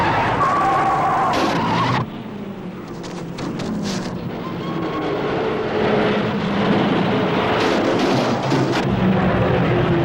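Grand Prix racing cars at speed in an old newsreel, a loud continuous roar with tyre skidding and engine noise, heavy and sustained throughout, no voices.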